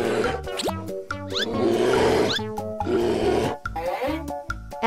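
A cartoon bear growls and grunts in rough bursts over a rhythmic music track, the growls loud and near amid the animated animal sequence.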